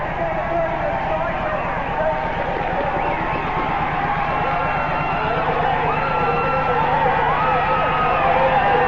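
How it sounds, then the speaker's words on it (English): Dense crowd noise at a triathlon finish in Manchester, a continuous roar of cheering and shouting that holds steady and swells slightly toward the end, with a commentator talking over it. "The crowd screaming and roaring."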